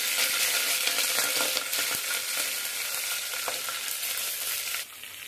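Onions, dried red chillies and green chillies fry in hot oil with a steady, dense sizzle that holds loud and close throughout, dropping slightly near the end, with no one speaking.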